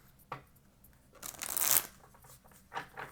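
A deck of tarot cards is shuffled by hand, quiet and close, with a few short riffling bursts and a longer flutter of cards in the middle.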